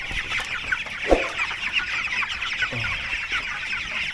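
Hungry 19-day-old broiler chickens cluck and chatter together in a steady, busy flock murmur, close by, with one louder squawk standing out near the start.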